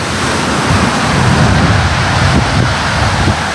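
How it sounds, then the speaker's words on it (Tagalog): Strong ocean waves rolling onto a rocky, coral-strewn beach camp in Agno, Pangasinan, a loud continuous roar of surf with wind buffeting, no voices. "Tapos doon, malalakas yung alon."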